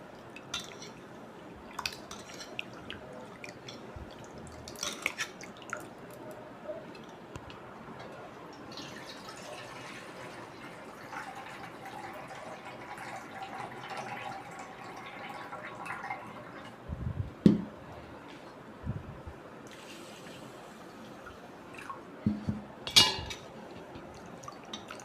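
Kodo millet is washed in a pot of water, with soft trickling, sloshing and drips, occasional light knocks against the vessel, and a few sharper splashes near the end, all quiet and close with no talking.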